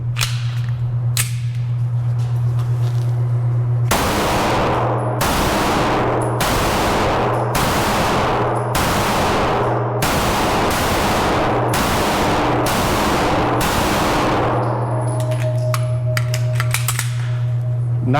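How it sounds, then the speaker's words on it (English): Roughly nine evenly spaced shots from a Smith & Wesson Equalizer 9mm pistol crack out loud and close at a range, set against a steady low hum, with no talking over them. "This is my first time shooting the Equalizer 9mm."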